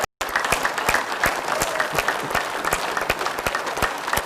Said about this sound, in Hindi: सो पहला है क्लैपिंग।